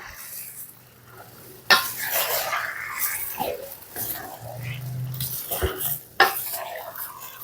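Beef caldereta stirred in a pot at a small eatery, metal spoon scraping and clanking against the pot in uneven strokes with sharp knocks, a light sizzle beneath, close up with no talking.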